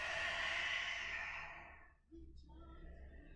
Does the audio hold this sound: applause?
no